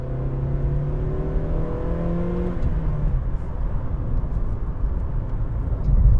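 A Vauxhall Corsa C with a 1.2 litre engine of about 70 horsepower accelerates, its engine note rising steadily in pitch before a gear change, then settling into a steady road drone heard from inside the car.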